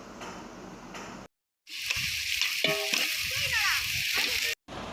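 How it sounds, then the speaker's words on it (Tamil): Onions sautéing with ginger-garlic paste for biryani sizzle steadily in a pan, a close, continuous frying hiss with a few stirring scrapes and clinks, broken by a brief silent gap near the start. "வெங்காயம் நல்லா வதங்கினதுக்கு அப்புறம் இஞ்சி பூண்டை நல்லா சேர்த்துக்கணும்"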